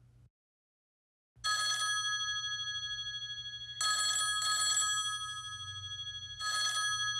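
A telephone rings in three trilling bursts with pauses between them, and a low hum runs underneath.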